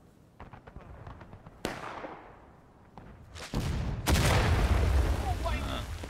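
An artillery crew's cannon shot in War of Rights, a sudden loud boom followed by a decaying rumble, then more heavy blasts and crackling battle noise building in the last seconds.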